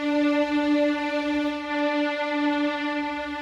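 A sustained string ensemble chord from the Hans Zimmer Strings sample library, sent into a MIR hall with early reflections, rings steady and full without a break, with no voices over it.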